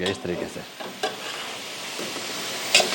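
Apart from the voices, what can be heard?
seekh kebabs frying and stirred with masala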